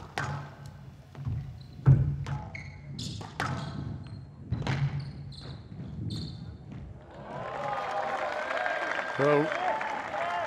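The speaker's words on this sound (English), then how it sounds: "he gets a clap there even" Crowd applause breaks out near the end of a professional squash rally between Gaultier and Rodriguez at El Gouna 2018, a sustained clatter of clapping following ball thuds and commentary voices.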